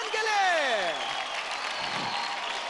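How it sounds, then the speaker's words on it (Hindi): Audience applause fills a televised children's dance competition grand finale, a dense steady wash of clapping and crowd noise with falling sung or tonal sweeps on top at the start. "जोरदार तालियां हो जाए"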